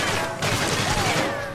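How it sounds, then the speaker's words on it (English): Dense, continuous gunfire in the sniper video game Sniper Elite 3, with a sustained burst of shots that briefly dips and then carries on at high volume. "Where am I getting shot from?"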